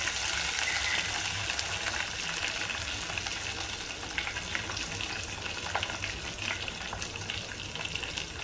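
Grated ginger pieces fry in a pan of oil for sooji rava upma, giving a steady, close hiss and crackle that holds evenly throughout, with no talking.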